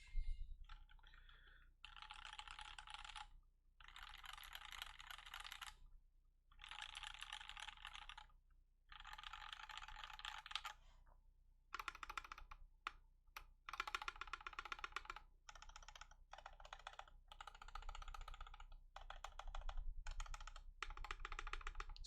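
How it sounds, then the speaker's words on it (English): Bursts of typing on a custom Canoe Gen 2 mechanical keyboard with GMK 9s keycaps, close and crisp clacking keystrokes in uneven runs separated by short pauses, including deeper thock-like spacebar hits, with no voices. "Spacebar's loud and clacky."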